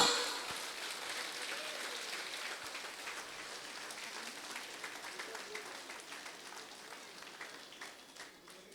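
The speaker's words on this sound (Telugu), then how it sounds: "మరొకసారి మన గుడాకేశుడికి చప్పట్లు కొడతామా గట్టిగా?" An audience at a Shivaratri event applauds, a steady, fairly faint crowd clapping that fades gradually over nearly nine seconds.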